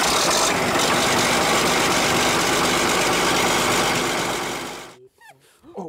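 An old, worn-out first car's engine runs loudly and roughly for about five seconds, a dense rattling drone with heavy low rumble, then cuts off abruptly to near silence with faint movement noises.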